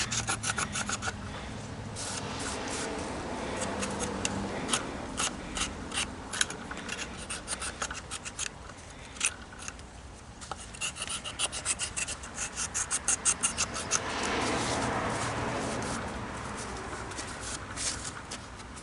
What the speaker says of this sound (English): we're going to scrape all that off, right? All the way around.